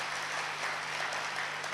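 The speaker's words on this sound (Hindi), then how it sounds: "जोरदार तालियां।" Steady applause from a seminar audience during a cultural programme at Mount Abu, a dense, even wash of clapping heard at a moderate distance with a faint low hum underneath.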